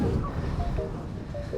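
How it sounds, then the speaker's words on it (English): Wind gusts over an open lake at a disc golf course, a dense, roaring rush buffeting the microphone, with faint tonal whistles poking through the steady low-heavy noise. "So you can see how windy it is right on this lake right here"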